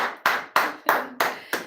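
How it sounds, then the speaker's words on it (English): Six slow, evenly spaced hand claps sound close and crisp, each with a brief ringing tail, like one person clapping alone. "So round of applause for yourself."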